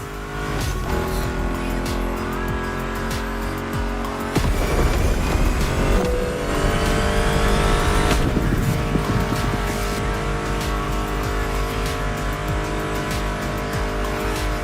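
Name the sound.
muscle car engines in The Crew Motorfest video game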